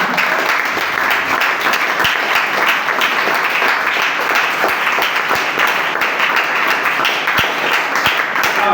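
A church congregation claps and cheers for the Lord in loud, continuous applause that fills the room, with scattered sharper claps standing out and voices mixed in.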